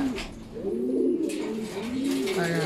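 Racing pigeons returning from a 95-kilometre summer training flight coo loudly and close by in repeated low, rolling phrases, with wing flutters and faint background noise.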